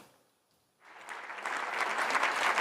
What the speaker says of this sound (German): Großer Jubel, ganz viel Applaus für den Bundeskanzler in der Fraktion der Sozialdemokratie.